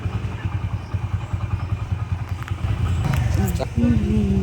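A modified motorcycle's engine putters in a steady, close rhythm, then revs higher toward the end.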